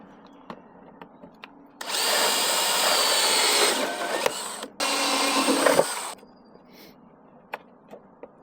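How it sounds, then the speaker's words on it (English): A power drill boring holes to mount a Delta Kayaks Elevate fit kit, two sustained loud whirring bursts close by, the second after a brief pause, with faint clicks and handling noises before and after. "And now I've got to drill 1, 2, 3 holes in each, and use the fasteners to hold them in place."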